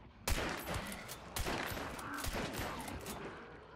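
Gunfire from a gun in Hunt Showdown rings out as a string of sharp, loud shots at irregular intervals, each with a ringing tail, fairly close and without talking.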